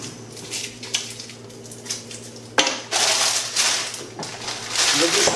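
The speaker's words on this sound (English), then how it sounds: "So that's going to go in the pan. So we get the onions going first" Chopped onions tipped into a pan for a leftover roast pork stir-fry, with a sudden clatter and then a bright, steady sizzle that swells toward the end, while someone talks over it.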